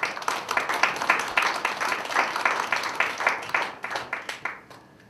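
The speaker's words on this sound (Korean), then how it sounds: "큰 박수로 환영해 주시면 감사하겠습니다" An audience at a university teaching workshop claps to welcome a lecturer, a close, rhythmic burst of many hands that starts strong and thins out toward the end.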